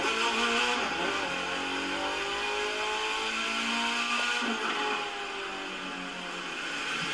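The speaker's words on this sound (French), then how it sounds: "on va aller se mettre sur une ligne pour accélérer." A Mitsubishi Lancer accelerating hard in the racing game The Crew 2, a loud engine whine climbing in pitch through rising gear sweeps with a brief shift midway before revving up again, heard alone without talking.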